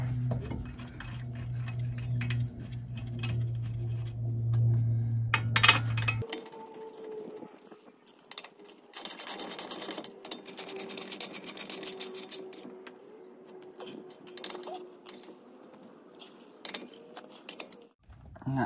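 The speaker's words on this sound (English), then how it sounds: "you're gonna take this caliper bracket here, you're gonna slide it on. And tighten the bolts." Caliper bracket bolts being tightened on a 2015 Ram 1500 during a wheel hub and bearing job: light metallic clicks and ticking, like a ratchet working, against a low hum that drops away partway through; no voices.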